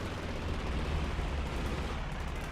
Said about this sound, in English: that was an airstrafe